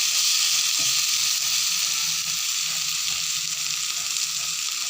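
Potato pieces frying in oil for a Bengali tangra fish curry with potatoes make a loud, steady sizzle that runs without a break, with a few faint low knocks underneath.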